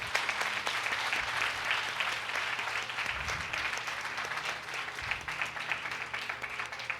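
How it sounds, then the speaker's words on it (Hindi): Continuous crowd clapping from a seminar audience applauding their uplines, steady and fairly close, with music or a low hum underneath. "एक बार अपने अपने अपलाइंस के लिए तालियां बजा लेते हैं"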